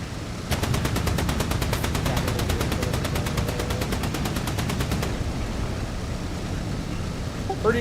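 Rapid automatic cannon fire from a big gun in the DCS combat flight simulator, a steady burst of evenly spaced shots lasting about four and a half seconds over engine rumble, then only the droning engine remains.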